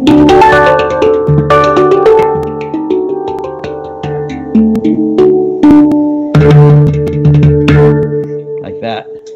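A handpan (hang drum) in the D Hejaz scale, with ringing, bell-like struck notes in a flowing melodic pattern, close and loud, with resonant overlapping decays and no talking.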